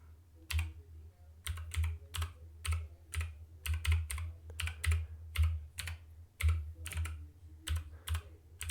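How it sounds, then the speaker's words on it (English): Fingers tap steadily on a computer keyboard nearby, crisp keystrokes arriving in quick clusters with short pauses between them. "Hear me typing it in."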